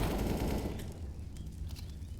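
FAMAS rifle gunfire in Counter-Strike during a competitive match on the Ancient map, a dense burst of rapid automatic shots up close that thins into scattered, fainter fire.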